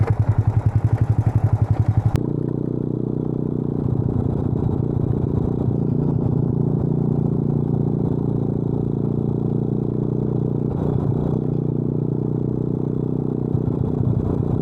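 A Boom Vader Grom clone motorcycle runs on a test ride. Its small single-cylinder engine throbs steadily up close, opening with a louder rev that drops off abruptly, then settles into a sustained mid-pitched drone with slight rises as the throttle shifts.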